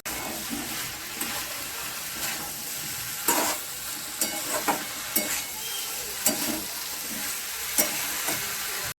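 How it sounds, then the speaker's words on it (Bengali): Vegetables with grated tomato being stirred and fried in a pan for a shrimp curry with flat beans, potato and eggplant, a continuous sizzle punctuated by repeated scraping and clinking of the spoon, with no talking. "সবজিগুলো দিয়ে দেবো, দিয়ে নেড়ে চেড়ে নেবো"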